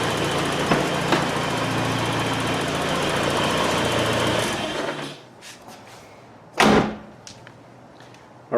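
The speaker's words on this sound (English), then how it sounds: "Alright, it's running perfectly. Engine is great." A Saab 900 Turbo engine runs with a loud, steady, rough drone for several seconds, then cuts off, leaving quieter clicks and a sharp mechanical clunk.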